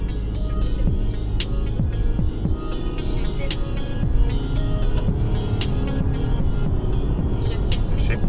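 A used car driving on the road with its gears shifting, a continuous low engine and road rumble heard from inside the cabin, steady and fairly loud, with faint clicks and rattles over it.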